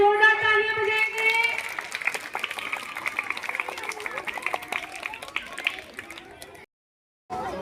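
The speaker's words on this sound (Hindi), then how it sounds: "सभी बच्चे जोरदार तालियां बजाएंगे।" Children at an Independence Day school celebration clap in a busy, scattered patter beneath a voice and some tonal sound at the start, ending abruptly in brief silence.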